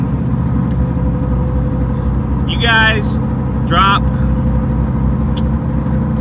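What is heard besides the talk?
Duramax diesel truck engine at high idle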